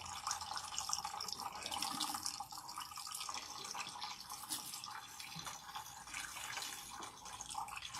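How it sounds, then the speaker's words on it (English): Tap water runs steadily and fairly loudly while a deep hair treatment is rinsed out of hair, a continuous splashing hiss with no talking. "So rinse out the Bandera until the water is completely clean."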